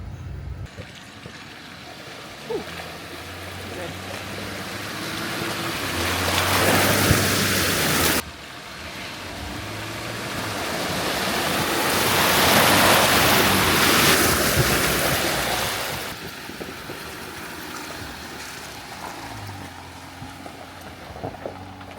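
Rushing water of a river in the New River Gorge roars broadly and steadily, swelling in two long surges, with a low rumble underneath.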